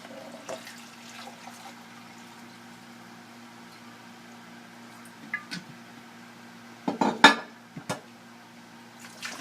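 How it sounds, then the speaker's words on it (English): Water is poured from a container into an Instant Pot while making red lentil chili. A low, steady trickle runs under faint kitchen sounds, followed by a few louder clanks and splashes near the end. "So I'm going to put the water into the Instant Pot."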